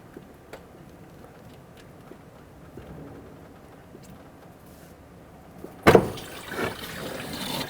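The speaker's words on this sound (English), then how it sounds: "there's going to be a lot of coolant coming out of here" Coolant gushes out of a Chevrolet Express radiator hose as it is pulled off. A quiet lead-in ends in a sudden splash of liquid that keeps pouring and trickling into a catch pan.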